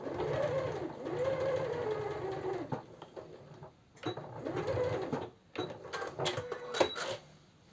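A sewing machine stitches a blouse seam in quick whirring bursts, stopping and starting with pauses and small mechanical clicks between runs.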